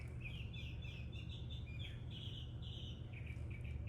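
Small birds chirp outdoors in repeated high, bright tweets over a steady low rumble of background noise, fairly faint and continuous.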